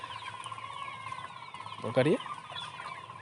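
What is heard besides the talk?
chickens clucking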